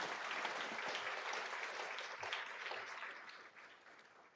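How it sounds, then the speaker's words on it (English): An audience at a school board meeting applauds a local elementary school, a full, even wash of clapping that gradually thins and fades toward the end. "A big round of applause for Fleming Island Elementary."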